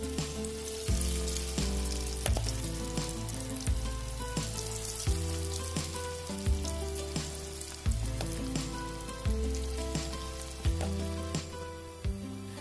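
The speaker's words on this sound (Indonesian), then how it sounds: "kemudian goreng jagung yang sudah dicicipi" Corn fritter batter (dadar jagung) frying in hot oil, giving a soft continuous sizzle that sits under louder background music with regular, stepping notes.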